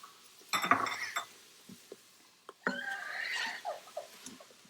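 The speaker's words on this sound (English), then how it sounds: "we're just gonna keep sauteing it" Leeks, carrots and celery being sauteed in a pot, heard as scattered metallic scrapes and clinks of a utensil against the pot, with quiet gaps and a faint background sizzle.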